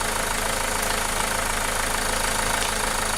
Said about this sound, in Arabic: شوفوا الموتور كيف ارتاح وارتاح